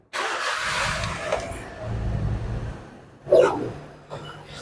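A warm Perodua Myvi 1.0 with a fault that makes it falter when hot is cranked and started, its engine catching with a short burst and then settling into a steady idle close by, with no talk over it.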